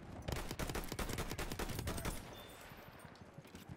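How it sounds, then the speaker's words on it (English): Rapid bursts of rifle and machine-gun fire in Battlefield 1 multiplayer combat, a dense, rattling volley of shots for about two seconds that thins into scattered distant fire. "Oh, someone shot at me."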